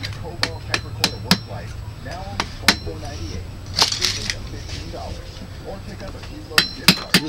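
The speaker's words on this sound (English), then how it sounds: "try using a thin putty knife instead of the screwdriver and try to tap that out of there" Thin putty knife tapped with a hammer into a corroded Barient 28 sailboat winch, a series of sharp metallic clinks at uneven intervals, close by, with a low background hum.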